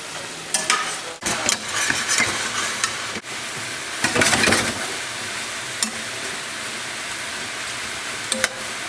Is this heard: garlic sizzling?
yes